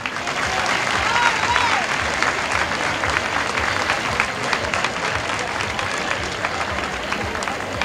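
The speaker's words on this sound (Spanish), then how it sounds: "Ese fortísimo aplauso para Juan Carlos Marín" Loud, dense audience applause at an award ceremony during a bugle and drum band competition fair, a sustained roar of many hands clapping, with a few voices and shouts woven through.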